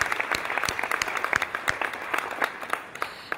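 A gala dinner audience claps together in applause for a woman honoured on stage at a breast-cancer charity event, a dense patter of many hands filling the room steadily without voices.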